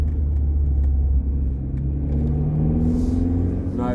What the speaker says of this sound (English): nice exhaust note, especially for a modern type of car.